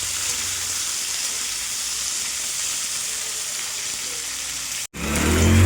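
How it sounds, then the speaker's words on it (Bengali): Pumpkin stalks fry in a pan with a continuous sizzling hiss, close and even, broken near the end by a brief cut before the sizzle returns louder. "খুব ভালো করে ভেজে নেব।"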